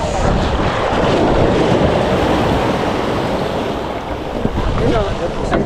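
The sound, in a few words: large ocean waves and wind at the shore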